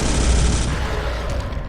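Loud, dense bursts of gunfire from the Space Hulk video game rattle continuously in a heavy, booming barrage, with no voices.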